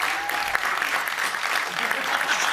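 A studio audience applauds in a dense, steady wash of claps for a short stretch on a Big Brother companion talk show, with no voice above it.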